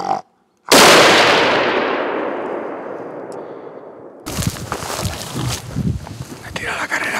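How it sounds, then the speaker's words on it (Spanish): A single loud gunshot rings out during a deer hunt, a sharp blast with a long fading echo, followed by rustling movement and handling noise nearby while someone talks. "intenta el disparo a la carrera."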